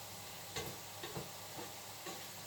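Food searing in hot oil in a pan at breakfast, a steady close sizzle with a few brief stirring scrapes and clicks, no talk.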